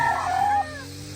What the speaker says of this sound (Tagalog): yung mga uh, manok na may, medyo may dinaramdam